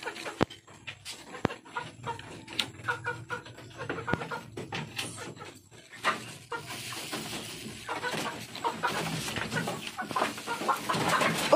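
Chickens cluck steadily nearby, short repeated calls mixed with scratching and rustling, growing busier and denser toward the end.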